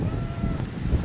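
Strong wind buffets the microphone at an outdoor rugby game, a dense, steady roar with no clear voices.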